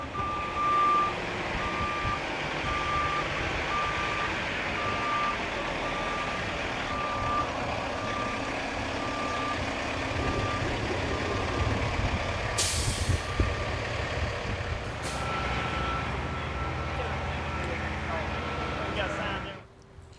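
A winter road-maintenance truck backs up at a salt bin to unload excess salt, its reversing alarm beeping steadily over a loud diesel rumble, with sharp air-brake hisses near the end.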